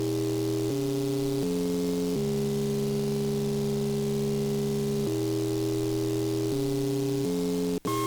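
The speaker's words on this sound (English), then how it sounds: "this is sub bass. There's the sine wave from earlier." A synthesized sub bass sine wave in a music project plays as sustained low tones that shift pitch in steps, loud and steady, ending with a brief click.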